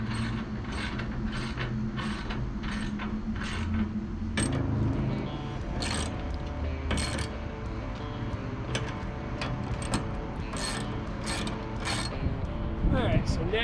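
Ratchet cranking down the mounting hardware of a Prinsu roof rack on a Toyota FJ Cruiser, a steady run of close, rapid clicking strokes with a brief pause midway and no talk.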